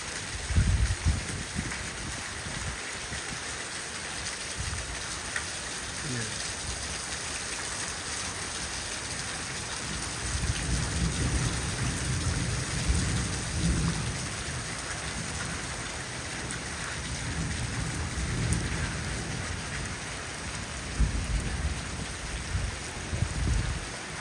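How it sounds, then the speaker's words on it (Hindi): Heavy rainstorm in Islamabad, a steady dense roar of rain pouring on surfaces with low rumbles of thunder rolling through, continuous and fairly close for the whole stretch, with no voices. "ये देखिए, मूसलाधार बारिश जो तकरीबन अभी 20 मिनट से मुसलसल बारिश हो रही है।"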